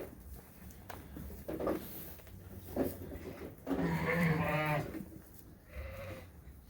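Sheep bleat in a crowded lambing barn full of newborns, with a loud wavering bleat in the middle and shorter calls scattered around it, amid shuffling and barn noise.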